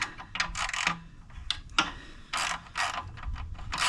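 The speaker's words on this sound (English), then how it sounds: "I have to remove two more 12 millimeter bolts" Ratchet wrench clicking as 12 mm bolts are loosened on a 2026 Honda Rebel 1100T motorcycle during a rear shock install, with bursts of close, rapid ratcheting separated by short pauses and no talk.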